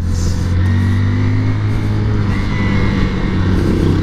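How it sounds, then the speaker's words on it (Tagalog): A Honda TMX Supremo 150 motorcycle from 2021 idles nearby with a steady low engine hum and faint mechanical ticking, holding an even, quiet note throughout. "Maririnig nyo yung makina niya, napakatahimik po nito. Sobrang tahimik lang ng Supremo 150."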